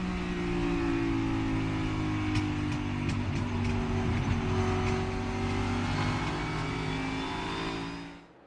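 Onboard engine roar of a NASCAR Cup Series race car, number 19, during the championship race at Phoenix Raceway; a loud, steady high-revving drone holds for several seconds, dips slightly mid-clip with a few sharp ticks, then fades at the end.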